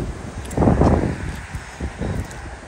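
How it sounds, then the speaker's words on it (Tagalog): Gusty wind buffets the microphone in rough low rumbles, swelling strongly around the first second and again briefly later, with a rustling quality. "Ang lakas ng hangin today ba."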